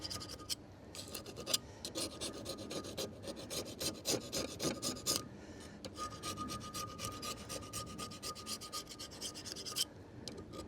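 Razor blade scraping across a cast iron surface, a dense series of rough rasping strokes that run close and steady, with one short pause midway and a brief break near the end.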